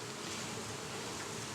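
A honeybee buzzes close by a beehive, a steady, unbroken drone that holds at an even level for the whole moment with no voices over it.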